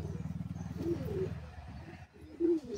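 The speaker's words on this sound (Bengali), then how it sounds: "দাদা বাড়িটি মাদি পায়রা" A short-sized female Gola pigeon at a loft gives soft, pulsing coos up close, a rapid throaty burble at first that then trails into quieter, broken murmurs.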